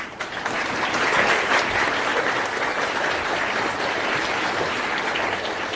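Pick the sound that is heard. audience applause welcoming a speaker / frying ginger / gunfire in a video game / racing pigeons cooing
audience applause welcoming a speaker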